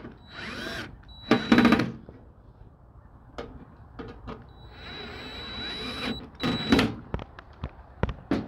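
Cordless drill driving fasteners into a Frymaster fryer door, several short whirring bursts of varying length with pauses and small handling clicks between them, close and fairly loud.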